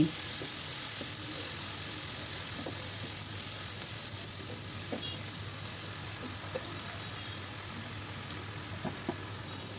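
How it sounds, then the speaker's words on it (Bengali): Beef brain frying with onion and ginger-garlic paste in a pan, a soft, steady sizzle with faint scraping stirs and a low background hum, no voices. "আদা রসুনের পেস্ট দিয়ে নাড়াচাড়া করে এখন পেঁয়াজের সঙ্গে কষিয়ে একটু ভেজে নিচ্ছি"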